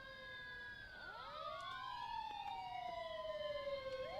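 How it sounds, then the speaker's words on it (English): A siren wails at a farm follower parade, its tone sweeping down and rising again over a few seconds, loud and steady over faint vehicle rumble, with no talking. "We got lights, we got sirens."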